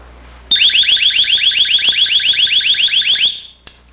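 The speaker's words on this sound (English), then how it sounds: "This emits 120 decibels of a siren-like alarm." A compact Help Me personal alarm sounds a piercing 120-decibel siren-like warble, a rapid repeating high sweep that is very loud and close for about three seconds before cutting off with a short click.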